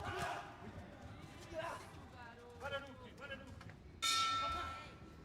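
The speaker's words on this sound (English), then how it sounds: "Bell goes at the end of the first." A boxing ring bell clangs loudly at the end of the first round at the AIBA Youth World Boxing Championships in Kielce, ringing out and fading after a stretch of arena noise and commentary.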